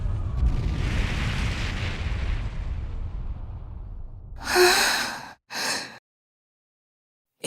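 Screaming voices and booming cannon fire in the Ys X Nordics video game: a long roaring rumble fades, then two loud harsh bursts and a final sharp hit at the end.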